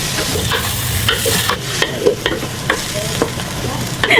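Aromatics sautéing in an oiled pan for pancit, giving a steady sizzle with scattered clinks and scrapes from stirring, close and continuous with no talking.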